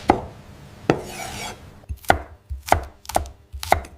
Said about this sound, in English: finely chopped fresh dill adds an herbaceous note